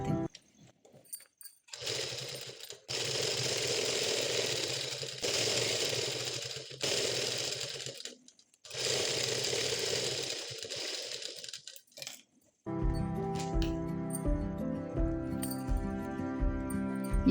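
A sewing machine runs in several bursts of steady stitching along a blouse seam, with short pauses between runs, then a different rhythmic mechanical clatter at the end; no voices.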